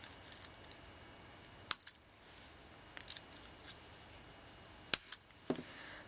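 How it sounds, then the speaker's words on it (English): Scissors snip through beading threads on a three-row two-colour beaded ring, a scattering of small, crisp, close clicks and snips at irregular intervals against a quiet room. "And then cut off these threads."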